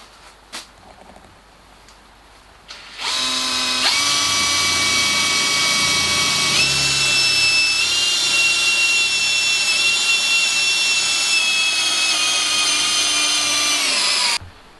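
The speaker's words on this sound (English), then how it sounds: "This involves drilling a couple of 8mm holes through both parts." A power drill whines steadily through wood for about ten seconds, boring 8mm holes, loud and close, with its pitch dipping slightly as it bites, then stops abruptly.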